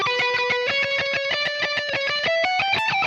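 Fast electric guitar run, picked as a rapid string of bright distinct notes that climb in pitch, played alone and close.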